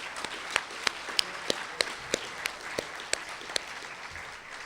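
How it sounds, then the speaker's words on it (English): Audience applause at a gathering, a faint, steady patter of many hands with a few sharper, louder claps standing out at regular intervals, heard from a distance. "let's give everyone a big hand of applause"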